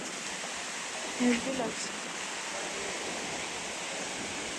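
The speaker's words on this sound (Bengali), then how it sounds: "বৃষ্টি চলে এসছে, কেমন বৃষ্টি" Heavy rain pours at the seashore in Udupi, a steady dense hiss of downpour filling the whole scene, with a brief voice speaking over it near the start.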